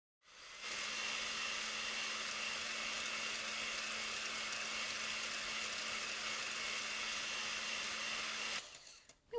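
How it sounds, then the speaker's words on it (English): An electric hand mixer whisking cream for a no-bake hot chocolate dessert lasagna, a steady loud motor whir with a constant hum running unbroken for several seconds before switching off. "I'm using an electric hand mixer."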